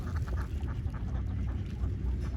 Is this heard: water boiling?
no